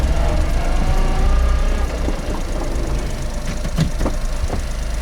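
A Honda Beat's small engine runs steadily at idle, a close, loud low rumble with faint knocking pulses and a few sharper clicks near the end, no voices.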